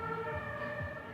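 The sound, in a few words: ambulance siren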